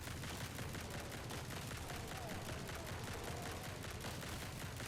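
Rapid, continuous shotgun fire in the video game Grind Survivors, a dense rhythmic stream of blasts at steady loudness with no talking.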